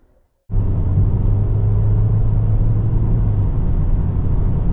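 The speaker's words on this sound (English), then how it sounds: "we're heading down the road in this 2024 Corolla XSE hatchback" A 2024 Toyota Corolla XSE hatchback drives along a road, giving a steady low engine and road rumble inside the cabin that starts abruptly after a brief quiet moment and holds constant, with no talking.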